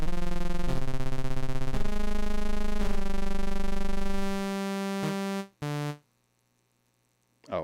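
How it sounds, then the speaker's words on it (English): A loud, buzzy tone from a Novation Peak synthesizer's self-oscillating filter drones steadily, shifting pitch slightly, then cuts off abruptly, followed by a couple of short tonal blips. "That's just the filter resonating on itself and self-oscillating."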